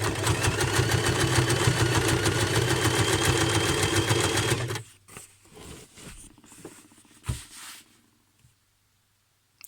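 Sewing machine stitching heavy fabric made from old trousers, a loud steady motorized whirr for about five seconds that stops abruptly, followed by faint handling clicks and thumps.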